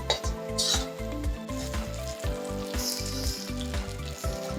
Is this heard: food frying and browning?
yes